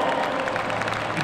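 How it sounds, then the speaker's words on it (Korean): Baseball fans in a stadium give steady, dense applause as retiring pitcher Oh Ju-won of the Kiwoom Heroes walks a red carpet toward the mound at his retirement ceremony, a broad crowd roar throughout. "팬 여러분, 오주원 선수를 힘찬 박수로 맞아주시기 바랍니다"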